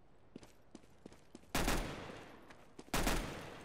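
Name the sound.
Tech 9 pistol shots in Counter-Strike: Global Offensive, video game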